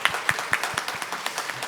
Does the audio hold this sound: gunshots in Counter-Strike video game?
no